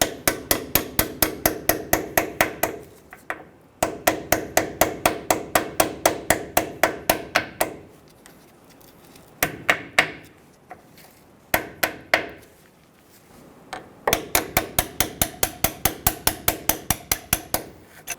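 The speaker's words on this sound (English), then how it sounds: "Using a hammer and a punch, we're going to pull these pins out." A hammer striking a punch drives out corroded front brake caliper pins on a 2005-2015 Toyota Tacoma, heard as rapid, rhythmic metallic blows in several long runs with short pauses between them, close and loud.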